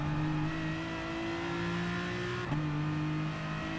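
Aston Martin race car engine in Gran Turismo daily race on medium tyres, a steady sustained drone with strong harmonic tones, holding near-constant pitch with a brief dip and shift around the middle, running alone throughout.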